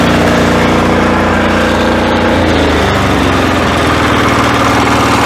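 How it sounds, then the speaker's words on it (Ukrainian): A Weima WM1100B-6 diesel walk-behind tractor runs close and loud after a decompressor start, a steady low chugging engine drone that drops slightly in pitch as the revs are eased down, with no talking. "Приємно працює дизельний двигун, нічого не скажеш."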